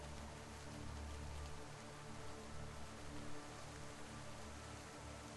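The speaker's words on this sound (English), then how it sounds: "here I was walking the night streets under the pouring rain." Heavy rain pours steadily in the night streets of the video game The Hungry Town, a dense, continuous hiss with a low rumble that holds even and loud throughout, with no voices.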